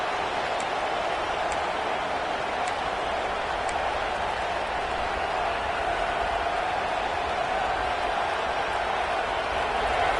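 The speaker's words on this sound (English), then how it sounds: "And this crowd coming to life here, trying to help the defense get a stop with the offense pinned back." A large football stadium crowd at an LSU versus Texas A&M game gives a steady, distant roar of cheering and noise that holds evenly throughout with no breaks, with faint whistle-like tones early on.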